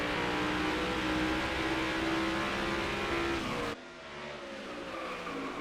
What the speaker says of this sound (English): Coming out of 2, you hear the upshift.